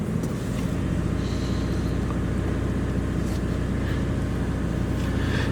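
A car engine idles and is revved a little while jump-starting another vehicle, giving a steady, close, low droning hum that holds throughout.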